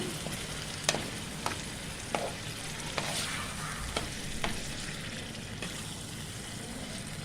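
Browned minced meat with red tomato sauce is stirred in a pan for lasagna, giving a steady soft sizzle with regular scraping clicks of a spoon, close and moderately quiet, with no talking.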